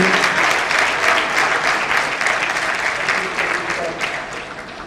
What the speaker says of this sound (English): Can I do a applause for both of them, please, once again?